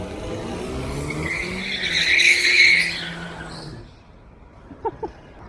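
Car spinning out near barriers at a street racing event, with a loud, close tire squeal and skid rising over engine noise for about three seconds before fading, then two sharp clicks.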